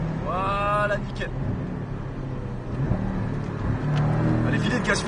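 A Porsche Cayman on the Bresse circuit, its engine note rising as it accelerates out of a tight corner, falling away and then building again, with people talking over the cabin noise.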